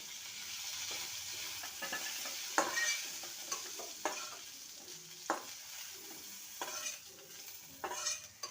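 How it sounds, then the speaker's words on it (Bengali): Moringa drumstick pieces stir-fried for a couple of minutes in a kadai: a soft, steady sizzle with quiet scraping and tapping from stirring, fairly faint throughout. "সজনে ডাটা দিয়ে দু মিনিট ভেজে নিয়েছি"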